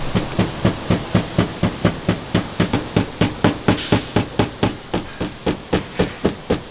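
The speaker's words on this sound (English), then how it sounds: "I just gotta bend these tabs back a little bit so it doesn't rub" Steady metallic hammering while bending fender tabs on a 2022 Subaru BRZ, about two dozen sharp, evenly spaced blows close by with no talking.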